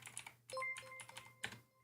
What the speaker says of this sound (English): I'm trying to type so carefully too because I can't see what I'm typing